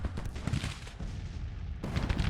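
Musket fire from skirmishers in the Civil War strategy game Grand Tactician, with a dense, continuous crackle of distant volleys and rumbling booms.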